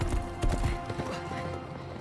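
Galloping horse hooves clip-clop in a quick rhythm, loud and close, as a rider on horseback scoops someone up during a battle march in a fantasy film, with dense rumbling score and effects underneath.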